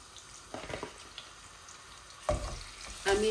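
Fish heads fry in oil in a pot with a soft, steady sizzle under a quiet background, broken by a few louder splashy bursts as the pieces are stirred or added.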